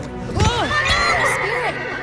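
An animated horse from the series Spirit Riding Free lets out a loud, close neigh with rising and falling whinny sweeps, followed by further shorter whinnies and a faint thump.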